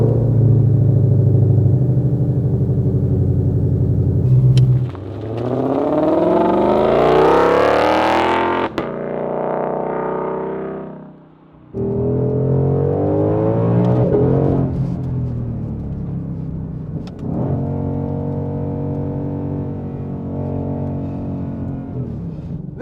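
A 760-horsepower 2020 Shelby GT500 with dual-clutch transmission accelerating hard on the road, its engine revving up through gears with rising pitch, brief lifts between shifts and a deep throaty rumble, loud and close.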